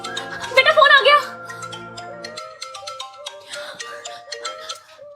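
An incoming call on a phone plays a melodic ringtone, loud and close with bright repeating tones, while people talk over it.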